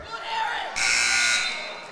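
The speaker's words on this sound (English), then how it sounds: "It's a buzzer." A loud electronic buzzer sounds for about a second over a noisy gym crowd and an excited announcer's voice at a high school boys wrestling match.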